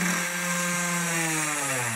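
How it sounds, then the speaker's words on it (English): A battery-powered Dremel rotary tool whines steadily as it drills straight across a piece of driftwood for an egg basket handle, a close, sustained high-pitched buzz with a slight pitch sag. "Drill that guy straight across with my Dremel."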